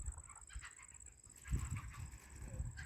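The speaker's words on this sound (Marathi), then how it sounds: "मग तिकडं कोंबड्यांची भांडणं लागली ती जाळीत." Chickens squabbling and clucking inside a wire coop at a village cattle shed at dusk, with bursts of agitated calls over a steady high-pitched insect-like whine and low background rumble.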